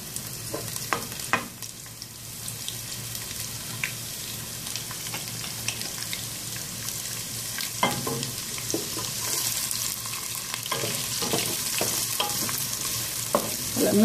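Onions frying in hot oil in a cooking pot, a quiet continuous sizzle that grows gradually louder, dotted with sharp utensil clicks and stirring scrapes, with no talking.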